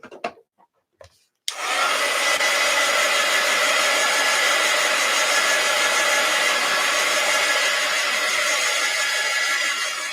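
Hair dryer blowing on wet paint in an art journal, switched on after a few small handling taps and then roaring steadily and loudly for the rest of the clip.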